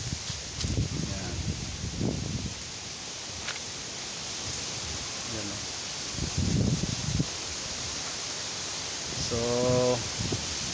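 Breezy wind rustling through coconut palm leaves around a bamboo house, a steady soft hiss and gust noise with brief speech from a man here and there.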